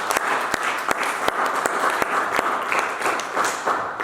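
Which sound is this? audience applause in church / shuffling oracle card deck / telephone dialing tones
audience applause in church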